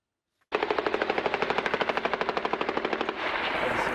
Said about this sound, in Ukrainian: бойовики вже активно б'ють з кулеметів